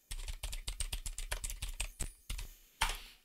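Rapid, crisp keystrokes clatter on a computer keyboard in an uneven run, ending with a couple of heavier key presses.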